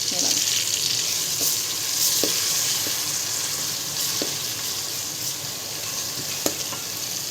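Garlic ginger paste frying in a pan for biryani, a steady close hiss and sizzle with occasional small pops and scraping taps throughout.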